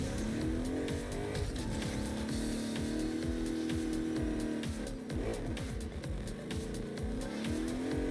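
A car drives and revs in the open-world game Agents of Mayhem, engine droning steadily with tire squeals and shifting pitch throughout, loud and close with no talking.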